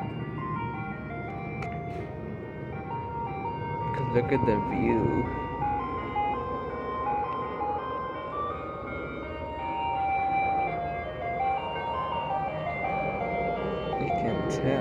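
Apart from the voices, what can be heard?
ice cream truck playing Turkey in the Straw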